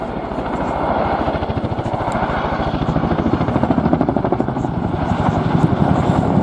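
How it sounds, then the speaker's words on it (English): Boeing Chinook twin-rotor helicopter flying a display at RNAS Yeovilton International Air Day 2018, its heavy rhythmic blade thump beating steadily and loud throughout, with a deep engine roar underneath. "The Chinook's size often hides its sheer ability and power, but we hope that you'll be impressed by the aircraft performance"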